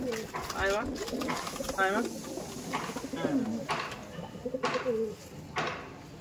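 Pigeons, a breeding pair with the hen on eggs, cooing in soft repeated rolling calls, several coos in succession fairly close, with someone talking over them.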